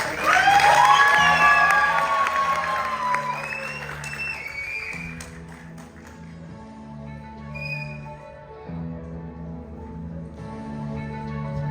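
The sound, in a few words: audience applause and cheering at a Hindi festival stage show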